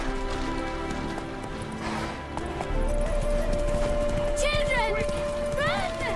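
Roach the horse galloping in The Witcher 3, a steady clip-clop of hooves under a loud game soundscape with music, a sustained tone and voices talking over it.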